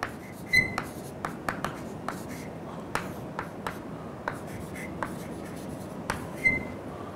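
Chalk or marker taps and short strokes on a classroom board, a scattered series of sharp little clicks and scratches spread over several seconds, close and quiet against a faint room hiss.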